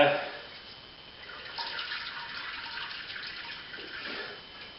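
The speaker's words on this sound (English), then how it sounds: "I'll just give that bag a couple of minutes to drain" A grain bag hanging over a pot drains wort while a pilsener is homebrewed, a soft continuous trickle of liquid with light dripping, close and fairly quiet.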